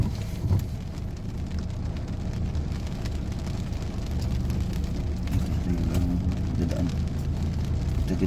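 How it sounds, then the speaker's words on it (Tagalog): Heavy rain drums steadily on a car in motion, a dense, even wash over low road and engine rumble throughout, with no talking. "malakas ang ulan."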